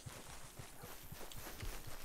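Horse hooves clip-clop in a steady, fairly quick rhythm, moderately loud and close, in the Western open-world game Red Dead Redemption 2, with no talk over them.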